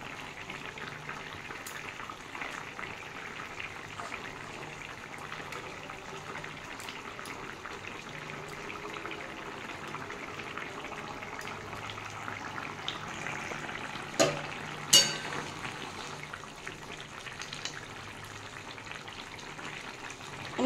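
A thin curry of bata fish with papaya, cucumber, okra and potato simmers in a pan, a continuous bubbling and sizzling texture with a few louder pops and spoon knocks near the end, no talk.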